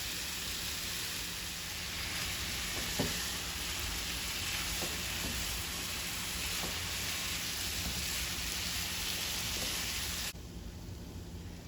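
Shredded vegan jackfruit carnitas fry in a pan with a steady, hissing sizzle, constant and moderately loud, with a few faint clinks, before the hiss drops off sharply near the end.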